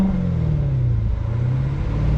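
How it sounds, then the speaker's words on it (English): A 2019 Corvette C7 Grand Sport fitted with a cold air intake holds a loud, deep engine rumble, and the pitch climbs slightly in a gentle rev up close. "Let's try to rev it up a little."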